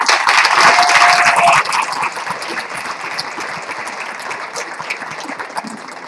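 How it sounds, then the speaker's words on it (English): An awards-ceremony audience applauds an honoree, a full, even wash of many hands that is loudest at first, then eases to a lighter, sustained clapping. "Another round of applause for our honoree."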